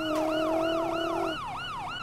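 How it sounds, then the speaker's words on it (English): A police siren wails in the GTA 5 video game, a loud, close, rapidly cycling electronic wail with a second overlapping tone that cuts out partway through, leaving the single siren to keep cycling. "Somebody turn your sirens off!"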